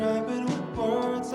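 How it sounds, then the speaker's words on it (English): Dirty, raw mono spring reverb adding vibe to a sustained synth or instrument chord, a low-level wash with soft swells and brief bright splashes, no voices. "It's a mono reverb,"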